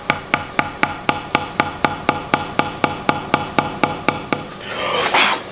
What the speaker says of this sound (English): Got the studs here. Just go ahead and tap them in.